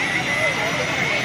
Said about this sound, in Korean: 오, 지금 헬기가 움직이기 시작했어요.